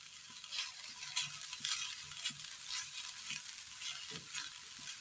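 Grated coconut is sautéed in a hot pan until it browns, giving a soft, faint sizzle with light stirring scrapes throughout and no voices.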